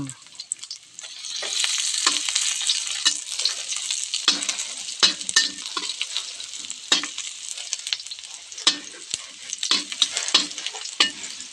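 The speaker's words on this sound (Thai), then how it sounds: "เจียวกระเทียมให้หอมก่อน" Garlic fries in hot oil before crickets go in to be roasted, giving a steady bright sizzle with crackling pops and occasional stirring scrapes, close up and with no talking.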